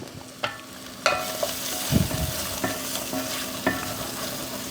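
Flour being stirred into sautéed garlic and aromatics in a pan for green bean casserole, with a steady low sizzle under several sharp scrapes and clacks of the spoon against the pan, close and clear.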